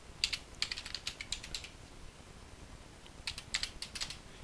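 Someone types a first name on a computer keyboard, two short bursts of quick close key clicks separated by a brief pause, quiet and with no talking.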